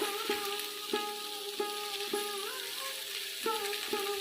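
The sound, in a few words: greens frying in a wok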